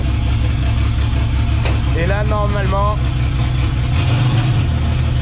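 The V12 bi-turbo engine of a Traction car idles with a loud, steady, continuous rumble close by. Someone speaks over it briefly.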